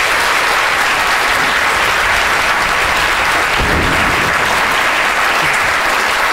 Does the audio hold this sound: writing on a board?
no